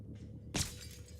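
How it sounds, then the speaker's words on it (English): Glass shatters in the video game Prey: a single sharp, bright crash bursts out of a low, humming ambient background and then quickly decays into a faint tinkling tail. "Is this glass breakable?"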